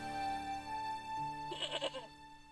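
A goat bleats in the Broken Sword video game, a wavering cry of several pulses rising over steady in-game background music and then fading.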